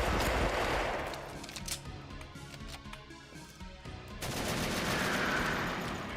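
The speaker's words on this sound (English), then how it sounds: "Is that the AK sound from Counter-Strike, by the way?" AK rifle fire in a retro DOS-style video game, rapid automatic bursts that start loud, thin out into scattered shots and swell again near the end, with no talking.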